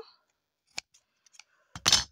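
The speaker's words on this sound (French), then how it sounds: "je vais quand même couper ici et avec mes ciseaux pour que ça reste propre" Scissors cutting paper napkins and crate scraps for a craft project: a few faint, sparse snips and clicks close by, ending in a louder crisp rustling cut, with quiet room noise between.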